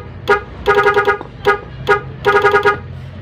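An NHAY 3+PRO MUSIC 8-tone car horn playing its seventh tone, a loud, close musical melody of quick stuttering toots and rapid note runs, repeated in two phrases with short pauses.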